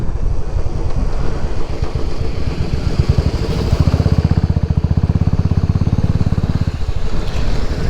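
Steady wind rushes through a narrow mountain gap in the Western Ghats, loud and buffeting against the microphone, with a low pulsing rumble building partway through.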